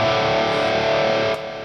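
Distorted electric guitar through a progressive metal amp preset mimicking a Mesa Boogie, with a thick, saturated tone, sustaining chords that ring out with reverb and delay before trailing off.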